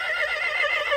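A horse neighs in one loud, sustained whinny that wavers in pitch for about a second, close by with no talk over it.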